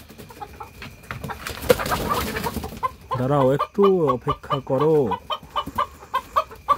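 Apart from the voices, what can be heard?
chickens clucking while being fed cabbage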